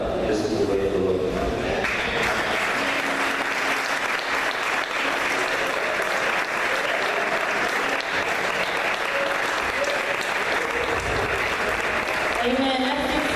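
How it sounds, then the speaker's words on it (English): Congregation applauding together at a Good Friday church service during a national convention, a steady dense roar of clapping filling the whole stretch, with faint voices and some tonal sound blending in underneath. "Let's give one another a round of applause."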